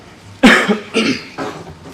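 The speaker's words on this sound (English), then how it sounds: "Excuse me for coughing, I apologize." Three harsh coughs in quick succession, close and loud, the first strongest, with a quiet room tone between them, during a commission meeting.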